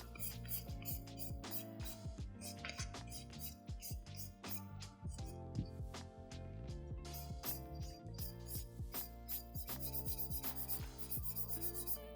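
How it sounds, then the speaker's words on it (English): A nail file rasps back and forth over fiber gel on fingernails in close, rhythmic strokes, with steady scratchy rubbing that continues throughout. "I'm just going to file over the top just to make sure it's nice and smooth and there's no lumps"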